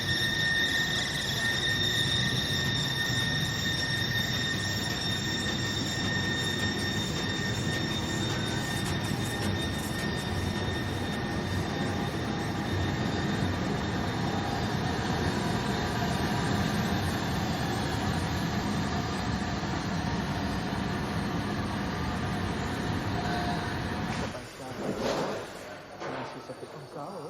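An automated rotary textile printing machine runs in a factory hall, giving a loud, continuous mechanical whirring with steady high whines throughout, with a few clattering knocks near the end.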